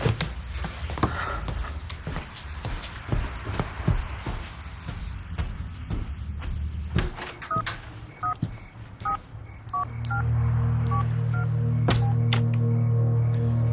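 Telephone dialing tones sound as a short run of clear, evenly spaced keypad beeps in a quiet indoor dramatic scene, followed by a steady low hum as the call connects.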